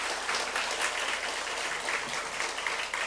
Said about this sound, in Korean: 다시 한번 우리 부교육자들 큰 박수 보내주시기